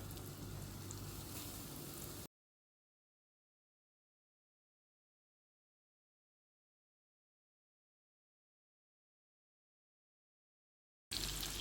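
Prawns deep frying in sunflower oil in a pan, a close bubbling sizzle that stops after about two seconds. Long dead silence follows, then the sizzling briefly returns at the end.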